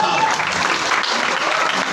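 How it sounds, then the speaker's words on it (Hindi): Brief burst of crowd clapping, dense and loud, sustained evenly for a couple of seconds. "एक बार जोरदार तालियां बजाएं, जोरदार।"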